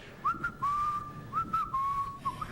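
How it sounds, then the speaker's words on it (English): A person whistles a steady tune in short held notes with brief breaks between them, close and clear over faint room noise. "Okay, give us a whistle."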